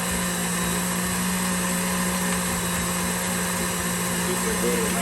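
An electric mixer creams butter in a bowl for strawberry cheesecake cupcakes, giving a steady, loud motor whir with constant hum that runs unbroken through the whole stretch.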